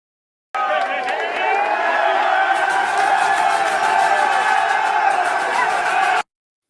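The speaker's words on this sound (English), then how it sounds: "This is just an example of the crowd noise." A sports-event crowd roars and cheers continuously, played back from a TV broadcast, with loud, dense whoops and shouts that swell into a sustained wall of sound before cutting off abruptly.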